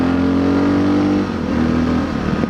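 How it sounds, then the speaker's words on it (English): A motorcycle engine with a modified, drilled-slide, rejetted carburetor and a cut-open air box idles loudly and close. It gives a steady throb, then a slight drop in pitch, with no talking. "I can't fix that backfiring problem on this bike"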